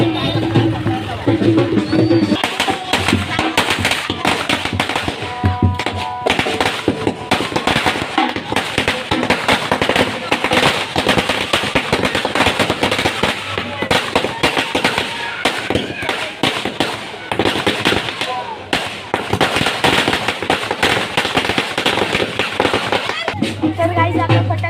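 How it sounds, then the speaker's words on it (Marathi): Firecrackers burst in rapid, crackling volleys during a Ganpati festival celebration, loud and close, with crowd chatter and voices mixed into the dense, continuous popping. "फटाके आताच फुटले"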